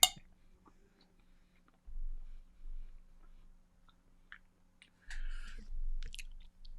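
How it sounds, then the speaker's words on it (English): Close, wet chewing of Ben and Jerry's Phish Food ice cream comes in two bursts of quiet mouth sounds and soft squishes, with faint clicks between them. "The chewing sounds, the ASMR."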